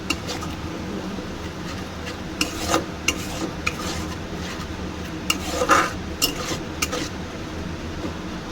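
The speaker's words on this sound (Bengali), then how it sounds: "এবার একটু নাড়তে থাকবো যাতে দইটা কেটে না যায় ফেটে না যায়" A spoon stirs spice paste with yogurt in a pan for a tengra fish chochchori, giving soft scraping and occasional sharp clinks against the metal over a low background, close by, with no talk.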